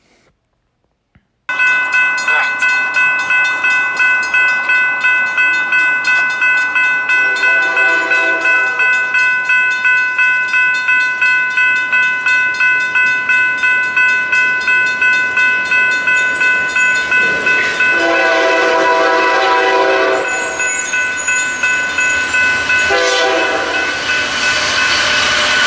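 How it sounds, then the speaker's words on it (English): A CSX Dash 8 locomotive sounds a loud, sustained horn chord that swells and dips over about twenty seconds, with a mechanical railroad crossing bell ringing steadily underneath at a crossing in Fullerton, California. "Pretty nice horn on this locomotive"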